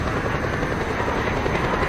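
A helicopter in the video game Just Cause 2 gives off a steady, loud rotor and engine roar without a break, with no voices over it.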